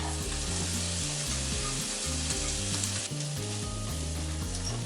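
Onion frying in hot oil on a stovetop while making Chapagetti instant jajangmyeon, a dense continuous sizzle, close and loud, with faint stirring beneath and steady tonal music throughout.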